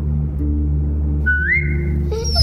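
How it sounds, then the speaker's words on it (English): A character whistles to call a dog in The Walking Dead video game, a rising then wavering tone followed by a short second whistle over a steady low musical hum. "Now whistle and tell her to lie down."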